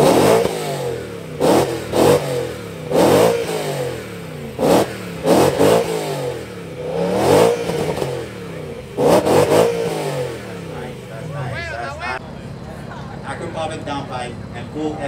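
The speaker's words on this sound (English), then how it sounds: "let's hear this V8." A BMW V8 with active exhaust, deleted catalytic converters and an FI exhaust revs hard in a series of sharp throttle blips that drop back between bursts, then settles toward idle as voices take over near the end.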